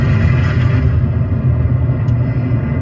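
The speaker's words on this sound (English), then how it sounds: "That is the sound of Israeli airstrikes in Gaza one day after the surprise Hamas attacks." Israeli airstrikes in Gaza roll as a continuous deep rumble of distant explosions, loud and heavy, with no voices.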